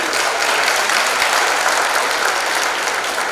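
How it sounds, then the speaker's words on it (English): Steady, dense applause fills a high school senior awards night as a scholarship recipient is honored, the crowd clapping loudly and evenly without a break. "Give him a round of applause."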